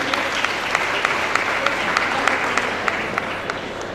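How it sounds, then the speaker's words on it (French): A graduation audience at a computer-training school ceremony claps steadily for a graduate, dense applause filling the room with sharper individual claps standing out at a regular pace. "on l'applaudit s'il vous plaît"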